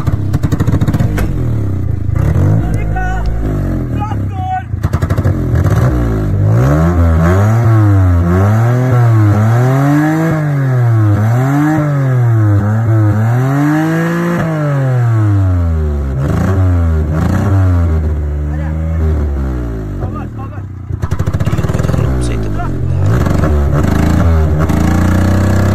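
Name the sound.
Suzuki car engine running rough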